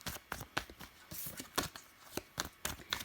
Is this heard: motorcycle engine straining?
no